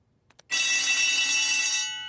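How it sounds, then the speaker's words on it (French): A cartoon school fire alarm rings loud and continuous, a harsh electric bell that starts suddenly after a couple of faint taps, then trails off slightly. "Nous avons entendu l'alarme."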